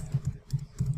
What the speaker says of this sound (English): All I have to do is just type